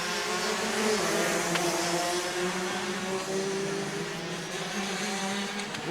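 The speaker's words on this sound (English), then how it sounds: "Very wide, high line down a DT turn for your race leader, Bradley Liebenberg." DD2 racing karts at a South African kart championship sweep through a wide turn, a continuous loud, high-revving engine whine with shifting pitch and layered motors, no talk.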